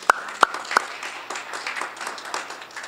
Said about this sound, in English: We should have an applause on that.